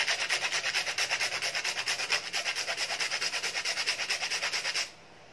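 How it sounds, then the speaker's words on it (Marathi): Whole nutmeg grated by hand into banana pancake batter: about twenty quick, even rasping strokes in a steady rhythm, close and fairly loud, stopping abruptly near the end with no talking. "यात मी घालणार आहे आता जायफळ किसून"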